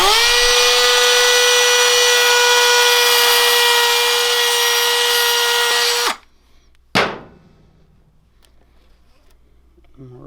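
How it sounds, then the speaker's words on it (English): High-pitched whining cutting disc on a rotary tool slicing through a throttle cable's outer housing during governor removal on a Coleman BT200X mini bike, a loud steady grind for six seconds, then a brief spin-down burst and quiet handling noises. "So we're going to go ahead and cut this with the cutting disc and slide off this outside housing."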